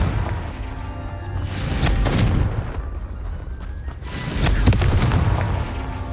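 Repeated blasting-spell explosions from the Hogwarts Legacy video game, two loud booming bursts with rumbling tails a couple of seconds apart over a steady game background, no talk.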